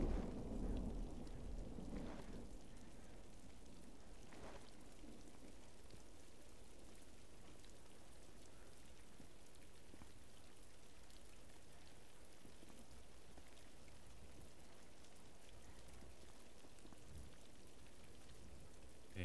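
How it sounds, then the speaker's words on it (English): Steady heavy rain in a video game hisses throughout with low rumbles of thunder rolling underneath, continuous and fairly loud, with no voices. "The rain is too strong."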